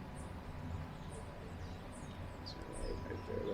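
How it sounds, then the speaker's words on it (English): Birds chirp outside a penthouse balcony in El Poblado, Medellin, Colombia: faint, sparse high chirps scattered over a low city hum, with no voices. "listen to the birds,"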